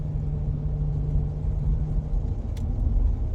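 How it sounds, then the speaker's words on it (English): A car rolls along a road with a suspected bad wheel bearing, giving a steady low droning rumble and a faint constant hum from inside the cabin, with road noise throughout and no voices. "it sounds like a bad wheel bearing"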